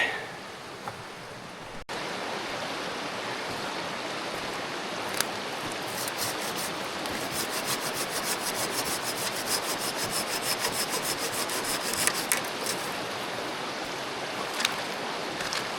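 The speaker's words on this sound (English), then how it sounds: "Chop this up into a few pieces, and I've got to lug it back." Dry beech wood being cut into pieces outdoors on a winter camping trip, a steady continuous rasping, rubbing sound like sawing, close and fairly loud throughout with no talking.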